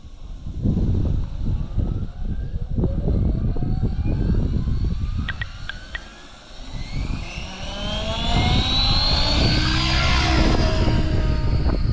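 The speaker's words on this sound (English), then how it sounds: "Motor off. Motor idle. Motor on." A radio-controlled model helicopter's electric motor whines as it cycles off, idle and back on during autorotation practice, the pitch sliding up and down with rotor whoosh, loud and close.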